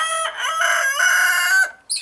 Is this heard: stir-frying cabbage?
no